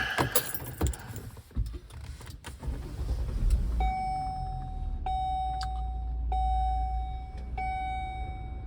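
A 2011 Volvo XC60 rebuild: first key and interior rattles with clicks, then the engine turns over into a low steady idle, and a clear dashboard chime repeats four times at steady intervals, close and alone.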